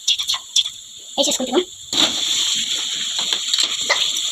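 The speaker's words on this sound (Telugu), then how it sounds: "ఇప్పుడు మనం చికెన్ వేసుకోవాలి ఫ్రెండ్స్" Fresh chicken pieces tipped into a pan for a spicy chicken curry, a burst of wet splattering and sizzling that settles into a steady close hiss, with speech over the start.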